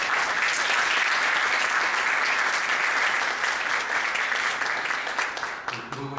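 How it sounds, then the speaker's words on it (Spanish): Strong, dense audience applause for a speaker at a formal event on the Peruvian Constitution, steady and loud before fading slightly near the end. "Recibamos con fuertes aplausos al doctor Víctor García Toma."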